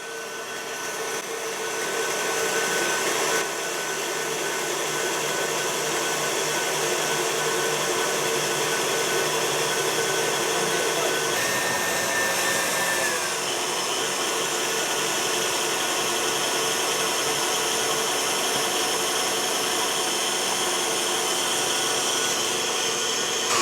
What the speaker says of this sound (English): So the mixer is going